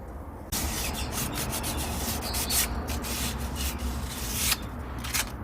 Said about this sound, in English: Use some fine grit sandpaper and go around here, gets it off pretty well.